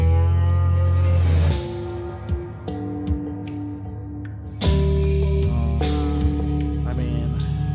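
Excerpt of a TV show's theme music plays alone, with sustained guitar-like tones and sparse plucked accents, fairly loud and clear, shifting chords partway through.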